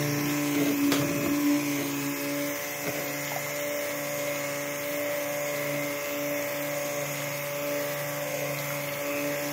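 An electric mixer whirring steadily on high through soap batter, a continuous droning motor hum with a few brief clunks near the start, close and without talk.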